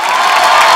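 A brief, loud burst of TV comedy show studio audience applause and cheering, dense and continuous without pauses.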